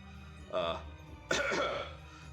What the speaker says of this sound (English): It's just a cough I get that hangs on after a cold